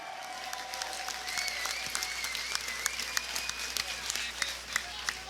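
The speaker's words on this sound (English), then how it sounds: "a round of applause for two great fighters" Crowd applause for two cage fighters at the end of a bout: a moderate, somewhat distant wash of clapping and cheering with sharp individual claps cutting through, and a faint voice in the background.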